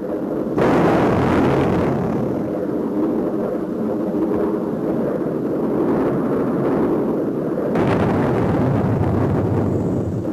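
The four 20-millimeter nose cannons of an F-100 Super Sabre fighter jet fire in sustained, loud bursts with a dense rattling roar that stops briefly and then resumes.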